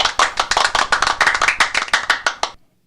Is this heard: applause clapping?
yes